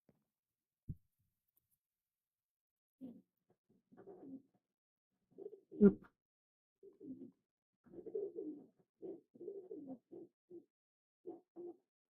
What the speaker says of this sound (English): You can hear the fucking birds outside my window.